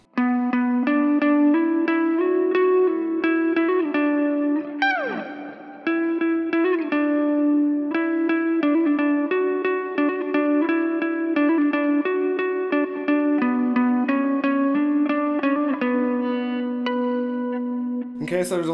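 Electric guitar line from a song, played with many hammer-ons and pull-offs through distortion, reverb and echo effects; clear, close sustained notes flowing legato, with a brief bend or slide dip around the middle and no talking.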